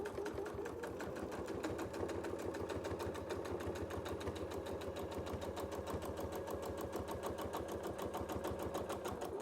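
A sewing machine runs steadily through a quilt project, free-motion quilting with a fast, even needle chatter and motor hum that continue unbroken at close range for the whole stretch, with no talking.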